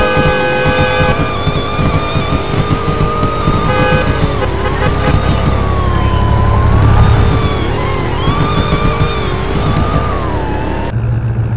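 A car in the Roblox game Greenville drives onto a soccer field with a loud, continuous engine drone whose pitch rises and falls, overlaid with synthetic tones and game effects and no speech.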